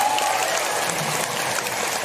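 Audience applause at a company family gathering, a dense wash of many hands clapping steadily throughout, moderately loud and even with no talk over it.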